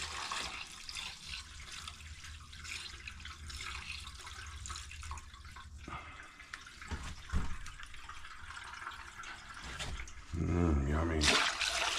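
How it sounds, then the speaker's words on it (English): Evaporust poured into the rusty fuel tank of a 1984 Virago motorcycle, a steady liquid trickle and splash that swells into a louder, fuller gush near the end. "I'm gonna pour this in the tank."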